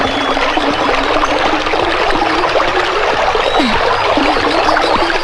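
Steady, loud water noise fills the scene as people wade barefoot across an icy-cold river, with continuous splashing and rushing flow and no speech.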